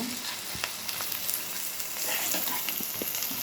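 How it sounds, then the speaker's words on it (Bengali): Onions fry in oil for a Sylheti beef curry with hatkora citrus, giving a steady close sizzle with occasional soft pops and scraping stirs, no voices. "দিয়ে লাল করতেছি আমার পেঁয়াজ যখন ভাজা হয়ে যাবে"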